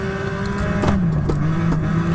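Maserati 250F race car engine droning at steady revs in Assetto Corsa on the Nordschleife, a continuous near engine tone with a slight pitch drop, no talk.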